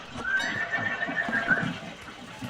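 A mare neighs in a long, strained whinny at close range over a low rumble of background noise.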